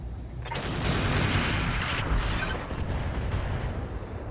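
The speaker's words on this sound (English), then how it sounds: "Well, the missiles hit." Missiles slamming into a mech in BattleTech, a sudden loud booming barrage of rumbling explosions that swells and then tails off into a lingering roar.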